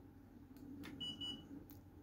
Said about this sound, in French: j'ai un petit bip bip, et là ça veut dire qu'il est prêt